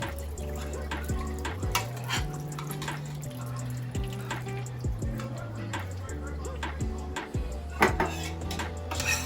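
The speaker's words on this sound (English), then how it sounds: "We're gonna go ahead and add our milk in here" Milk pours over macaroni noodles for a baked macaroni dish: a continuous liquid splash and gurgle with a few light clatters, under steady tonal background sound and a voice.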